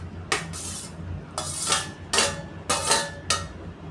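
Cooked Ponni rice being added to a pan of tomato rice, with five sharp metallic scrapes and clinks of a spoon against the pan spaced roughly evenly, close and clear with no talk.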